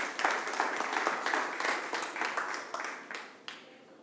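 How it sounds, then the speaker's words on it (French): Audience applause after a fintech startup pitch, a room of people clapping with distinct individual claps, fairly loud at first and gradually thinning out toward the end. "On peut applaudir."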